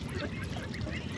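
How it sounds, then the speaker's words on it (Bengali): Ducklings give a steady chorus of soft overlapping peeps and quacks, close by and continuous for a brief moment. "হাঁসার বাচ্চা"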